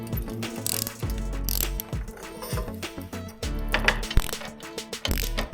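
Ratchet clicking in repeated bursts while removing bolts on a 2019 Honda CRF250L motorcycle during clutch work, close and fairly loud with short pauses between runs of clicks.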